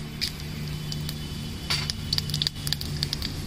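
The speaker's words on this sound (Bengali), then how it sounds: "তেজপাতা আর শুকনো লঙ্কা ফোড়ন দিয়ে দেবো।" Bay leaf and dried red chili fry in hot mustard oil for a tempering, giving a steady close sizzle dotted with sharp crackles and pops, with no talk.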